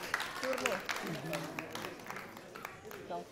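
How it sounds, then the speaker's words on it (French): Scattered clapping from a small group at a Guinean school ceremony, mixed with people talking nearby, moderate and uneven. "Matoto, on l'applaudit, s'il vous plaît"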